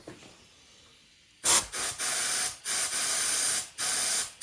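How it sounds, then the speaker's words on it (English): Compressed air from a hose nozzle blows hard through the fuel line of an old snowblower, coming as several loud, close hissing blasts of a second or so each, split by short breaks, with no talk. "I'm just going to take this air hose and I'm going to stick it in this blower out"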